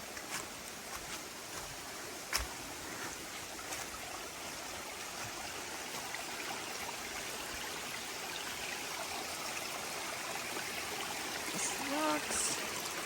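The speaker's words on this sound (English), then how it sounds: "There's the water. Sounds like a waterfall or something." Steady rushing water, like a small stream or waterfall in the woods, runs throughout at moderate level; a brief knock and a faint voice near the end.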